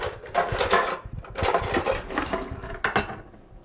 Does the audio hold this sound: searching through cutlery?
yes